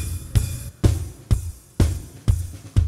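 A drum kit plays with noise gates on the snare and tom channels: six sharp, punchy hits at a fairly even pace, each cut off cleanly with short, tight decays and no ringing between strikes.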